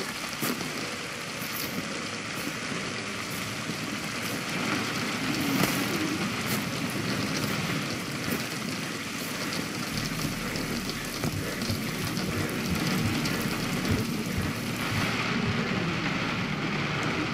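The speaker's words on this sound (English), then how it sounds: "Oh yay, rain. Fuck rain." Steady, dense patter of rain in the video game Generation Zero covering the whole stretch, a broad continuous hiss with scattered droplet ticks and no voices.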